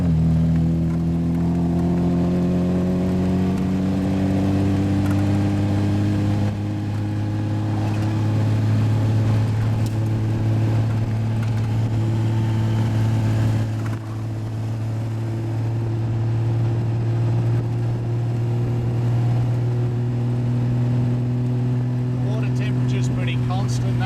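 An Austin Healey 100/6 six-cylinder engine drones steadily from inside the car as it drives, with slow pitch changes and someone talking over it throughout.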